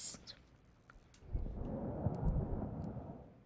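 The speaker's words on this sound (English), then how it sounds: "Oh, thunder." Thunder in the video game Blameless: a low, deep rumble that swells after about a second and rolls on steadily to the end, fairly faint, with scattered small clicks.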